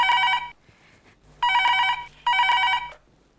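A telephone rings indoors in three loud bursts of bright electronic trilling, each lasting around half a second to a second, separated by short silences, with no talk over it.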